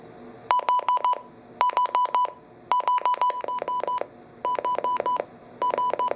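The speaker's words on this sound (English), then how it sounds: "it will play a series of beeps that will simulate how loud the alert tone will actually be" A Midland WR-300 weather radio sounds loud alert beeps at high volume in quick bursts of four to five tones, repeated in five groups with short pauses between, sharp and piercing.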